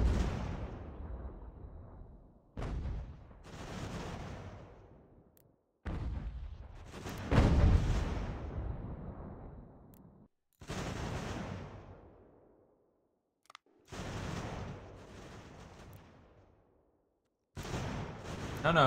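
Musket volleys and artillery booms sound in the Ultimate General: American Revolution strategy game, coming as repeated heavy blasts that each decay in a long rumble, broken by brief silent gaps.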